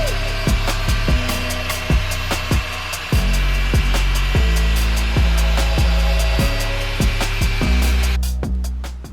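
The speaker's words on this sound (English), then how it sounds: "Now we can get on with some more polishing." A polishing machine works over the paintwork of a BMW Z4 E85, giving a steady loud whirring drone with a string of sharp rhythmic clicks or knocks, ending as the machine winds down near the close.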